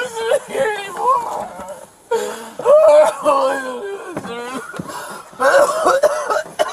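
A woman coughs repeatedly in harsh, wheezy bursts with strained breaths and short voiced sounds between them, close and fairly loud.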